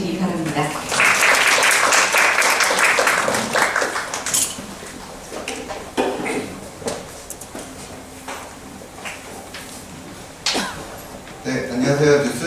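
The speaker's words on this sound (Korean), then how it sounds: "여러분 큰 박수로 맞아주시기 바랍니다" Applause from a seminar audience welcoming a presenter, loud and sustained at first, then thinning into scattered clapping and room noise with a few later bursts.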